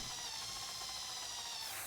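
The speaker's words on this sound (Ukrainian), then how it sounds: "свердлимо отвори." A high-pitched power drill whines steadily for a moment while drilling holes in a homemade fishing lure, a constant mechanical buzz with no voices.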